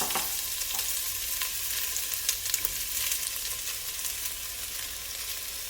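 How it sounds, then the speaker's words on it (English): Potatoes and carrots sauté in hot oil in a pan, giving a steady, close sizzling hiss with a few sharp crackles and light stirring scrapes, with no talking. "I'm going to start by sauteing my potatoes and carrots."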